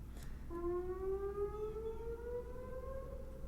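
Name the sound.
sirens going off outside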